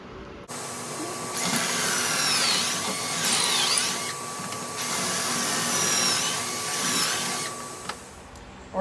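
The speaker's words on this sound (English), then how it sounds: "so I got my pocket holes drilled" Drilling pocket holes with a pocket hole jig: a power drill whines in several close, loud bursts of varying length over a steady mechanical hum, with no talking.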